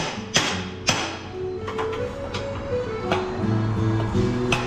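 Sharp metallic taps from hammering steering head bearings into a motorcycle ring out a few times at irregular intervals, with a low mechanical hum and background clatter running underneath.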